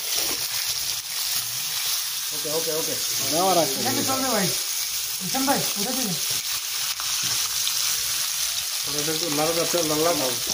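Barbecue fish frying in hot oil, a steady close sizzle running the whole time, with people talking intermittently over the cooking sound.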